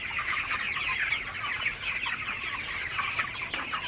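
Broiler chickens on a farm cluck steadily while drinking water, a dense continuous chorus of many birds close by with no talking.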